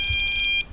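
An electronic fishing bite alarm beeps rapidly and loudly at close range while carp fishing on the Kurca river, a short run of shrill, even pulses with no talking.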